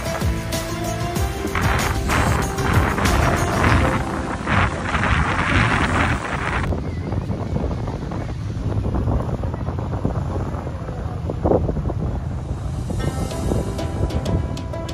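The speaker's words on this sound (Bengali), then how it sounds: "সমুদ্রের পাড়ে বসে আসলে এই গর্জন শুনতেই ভাল লাগে।" Sea surf roars at the beach at Southend-on-Sea, a broad continuous rush of waves mixed with heavy wind buffeting the microphone, loud and close throughout.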